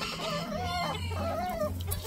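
A fighting rooster at a breeding farm gives harmonic clucks and short crowing-like calls, close and clear over a low steady hum, with no talk.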